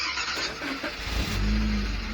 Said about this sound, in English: so we're going to start the vehicle now